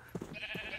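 A single pink sheep in Minecraft gives a short, nasal bleat in two quick pulses, quiet and close, with no speech over it.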